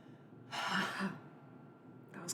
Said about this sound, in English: Trying to get rid of my cough.